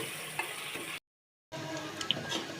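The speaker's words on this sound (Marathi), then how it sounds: "चला तर कांदा फ्राय करून घेऊ पहिले" Onions fry in a pan for chicken biryani, a faint, even sizzle that cuts out for a moment of silence before resuming.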